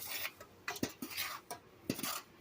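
Spoon scraping and clinking against a pot while a soda ash mixture is stirred, a run of sharp knocks and scrapes at irregular intervals, close and fairly loud, with no talking.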